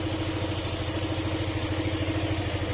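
A flood-damaged Yamaha NMAX 155 scooter engine idles steadily, a close, even mechanical drone with a low pulsing throb and no talk over it.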